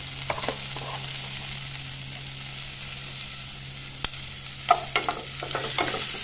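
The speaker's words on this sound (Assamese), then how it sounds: "এতিয়া সেই তেলখিনিতে জিৰা দি দিছোঁ তাৰপিছত দি দিছোঁ পিঁয়াজ" Cumin seeds and chopped onion fry in hot oil for a fish curry with okra and potato, a low steady sizzle broken by a few light clinks and stirring scrapes, moderately close and with no voices.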